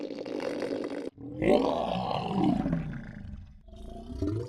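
Designed creature roars made for a sound effects library, deep growling roars that swell and fade, one short burst followed by a long loud rumbling roar and a third trailing growl, close and alone.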